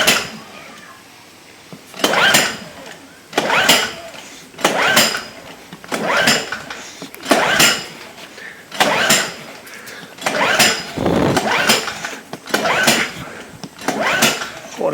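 A Fuji Micro 3700ER generator, left sitting for about a year, is pull-started again and again: about ten rhythmic recoil-cord pulls, each a loud rasping burst with brief engine turnover, separated by short pauses.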